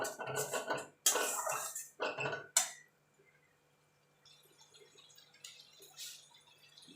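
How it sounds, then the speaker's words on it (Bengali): A utensil stirs masala okra and yogurt in a pan, heard as a series of close scraping and clinking strokes against the pan that give way to near quiet with only faint soft taps. "এবার ভালো করে মিশিয়ে নেব"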